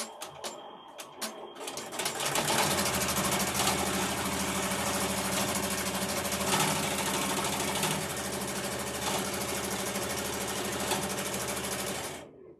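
A machine embroidery unit sews an in-the-hoop unicorn-top zipper bag, its rapid needle chatter starting after a moment and running loud and steady for over ten seconds before stopping, with no voices.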